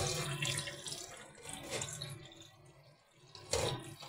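Water pours from a tap into a cooking pot while breakfast is being prepared, a close, rushing splash that swells and eases over a few seconds, with a louder gush near the end.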